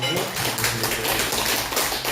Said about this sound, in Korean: 오늘 귀한 말씀 주신 목사님께 우리 감사의 박수로 우리 마음을